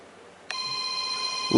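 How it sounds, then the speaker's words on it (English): A telephone rings with a bright electronic tone that starts abruptly and holds steady, fairly close, with a brief muffled voice or handling noise right at the end. "Shut this stupid phone off."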